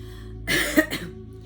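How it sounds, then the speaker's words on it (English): A single short bout of coughing, fairly faint and a little distant, against a low steady background hum. "my grandma who's in there coughing her damn lungs out"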